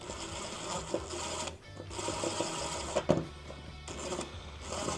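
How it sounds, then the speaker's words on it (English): An impact driver runs in a few bursts while screws are driven during a large rough-weather dog door installation, giving a fast, rattling mechanical whir that pauses briefly between runs. "I am going to just do them a bit with my impact here"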